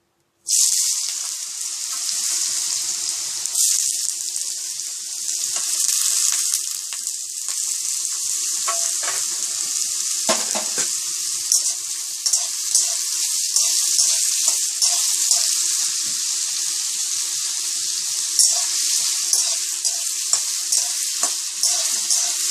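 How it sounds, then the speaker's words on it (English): Potatoes sizzle loudly in hot oil on high flame, a constant bright crackling hiss with occasional stirring sounds. "We are frying the potatoes on high flame."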